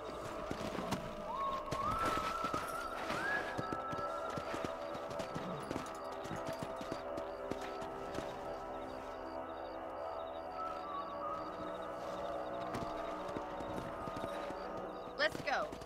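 Horse hooves clip-clop steadily while a rider crosses a ranch in Red Dead Redemption, with a quick rhythmic beat under game music and ambience as people talk over it.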